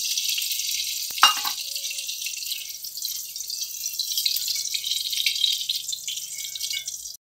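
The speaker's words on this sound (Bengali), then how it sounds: "তো কড়াই তেল দিয়ে দিয়েছি, তো বেগুনটা আমি ভেজে নেব প্রথমে।" Eggplant frying in hot oil in a kadai wok: a dense, close hiss of sizzling oil that holds steady throughout, with one brief knock near the start and no voices.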